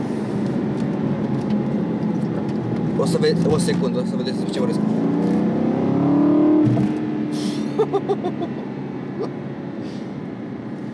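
Aston Martin V8 Vantage with a six-speed manual gearbox, its engine rising and falling in loud revs and accelerations with gear changes, while someone talks over it at the start.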